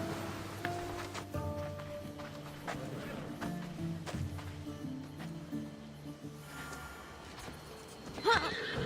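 Horses in the video game Assassin's Creed Odyssey whinny and neigh, joined by a clip-clop of hooves at a moderate level, with a short sharp call near the end and faint background voices.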